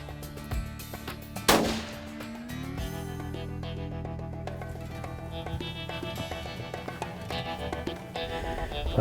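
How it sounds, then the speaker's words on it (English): A hunting rifle firing a 6.5 caliber Berger hunting bullet at a trophy buck. There is a single sharp, loud report, followed by a faint echo over background music. "On the same hunt, Alan makes a 547-yard shot on a nice trophy buck."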